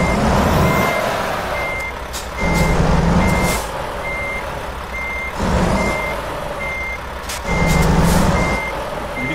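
In American Truck Simulator, a truck with a large trailer backs up while steady reversing beeps repeat at an even pace over a low, swelling diesel engine drone.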